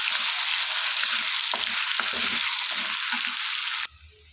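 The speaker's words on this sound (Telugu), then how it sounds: "ఒకటిన్నర టేబుల్ స్పూన్ అల్లం వెల్లుల్లి పేస్ట్ వేసుకోవాలి వేసుకుని ఇదంతా కూడా పచ్చివాసన పోయేంత వరకు కూడా ఈ ఆయిల్లో ఫ్రై చేసుకోవాలి" Ginger garlic paste fries in oil for chicken pickle, a loud steady sizzle with soft stirring scrapes before it abruptly drops to a quieter hiss.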